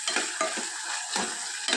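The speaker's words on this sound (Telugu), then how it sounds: "మూత పెట్టి ఈ టమాటా మగ్గిపోయేంత వరకు తాలింపుని వేయించుకోవాలి" Tomato tempering sizzles in a pan for mutton masala curry while a utensil stirs it in several brisk scrapes, close and without talk.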